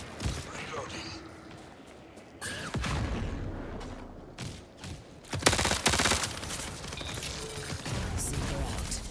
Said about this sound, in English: Oh my God, grenades!